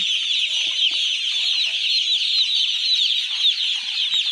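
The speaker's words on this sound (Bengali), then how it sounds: "ছোটাছুটি করছে পাখিগুলো কি সুন্দর" A dense crowd of young chickens peeps and chirps continuously inside a poultry farm shed. The high chatter is steady and close, with no other sounds standing out.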